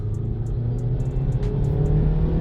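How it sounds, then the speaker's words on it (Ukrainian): A 2015 Dodge Journey with a 2.4 engine and four-speed automatic pulls away hard from a standstill, its engine droning loudly and steadily on the way to 100 km/h, with no talk over it. "Зараз ми спробуємо розгін від нуля до сотні."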